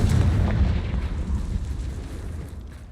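A Confringo blasting spell explodes in Hogwarts Legacy, a loud low rumbling boom that rolls on and slowly fades over a few seconds.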